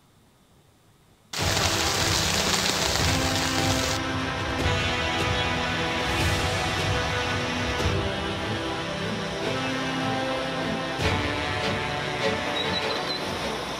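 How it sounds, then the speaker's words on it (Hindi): Heavy monsoon rain in Maharashtra comes in as a sudden loud, dense roar after a moment of near silence, then holds steady and sustained. "महाराष्ट्र के कई हिस्सों में पिछले कुछ दिनों से भारी बारिश हो रही है"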